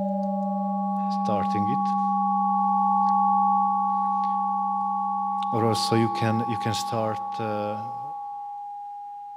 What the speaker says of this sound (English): If you type FREC, it produces a sine wave, which is also a random sine wave.